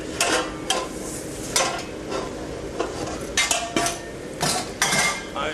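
Saucepans and pots clatter in a ship's galley, with metal clanks and bangs rising in irregular bursts over a steady kitchen hum, close and fairly loud.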